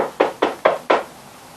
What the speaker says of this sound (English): Can you knock on something for me?